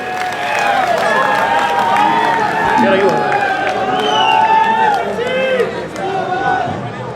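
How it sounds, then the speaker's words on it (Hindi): A large crowd at a Haryana political rally claps and cheers to welcome a politician, producing loud, continuous applause with whistles and hubbub, while an amplified voice speaks over it. "जोरदार तालियों के साथ अपने भाई जस्सी पेटवाड़ जी का स्वागत करें"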